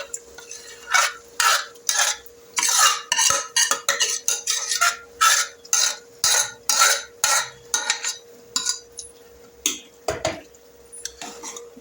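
A spoon scrapes and clanks rhythmically in a pot as cooked dal is stirred into sambar, close and loud, repeating strokes in a steady pattern with short pauses and no talk.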